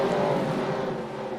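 Dirt track sprint cars at the Knoxville Nationals roaring down the front stretch, a loud, sustained engine drone with a steady pitch over a short stretch.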